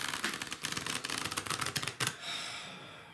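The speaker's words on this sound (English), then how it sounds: "this is where we listen to the shuffling of the cards" Rapid riffling clatter of tarot cards being shuffled, a dense run of crisp snaps that stops abruptly, followed by quiet.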